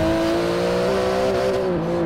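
A 700-horsepower 3.8-litre twin-turbo flat-six in a Porsche-like carbon-fibre car in Forza Horizon 4 drones loudly and steadily at high revs, with slight pitch shifts as it holds speed.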